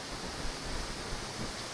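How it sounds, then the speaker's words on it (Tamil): Rushing water roars through the Breitachklamm gorge on the German–Austrian border, a loud, dense, unbroken wash of noise with no voices. "இந்த பேர்ட்ஸ் போடுற சவுண்டும் இந்த தண்ணியோட சவுண்டும் நல்லா இருக்குது கேட்குறக்கு"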